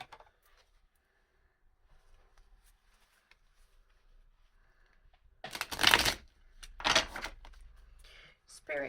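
A deck of tarot cards being shuffled, with several loud, crisp riffling bursts near the end after a long stretch of quiet, faint handling sounds.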